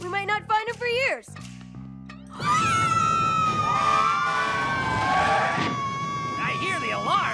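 A cartoon fire alarm siren wails loud and high, rising and falling in a long sweeping tone. It follows a burst of squeaky, pitch-bending cartoon noises and short tonal blips.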